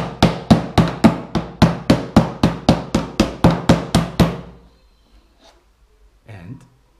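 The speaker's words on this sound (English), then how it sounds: "Then we hit it with a hammer." A hammer strikes a rigid TPU plastic drone frame about fourteen times in a quick, steady rhythm, each hit a sharp, close knock. The blows stop after about four seconds, leaving near silence broken by one faint rustle.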